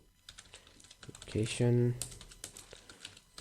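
Rapid clicking on a computer keyboard while coding a React weather app, with light uneven keystrokes running throughout and a brief spoken word from a nearby voice in the middle.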